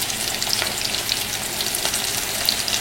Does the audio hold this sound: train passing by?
no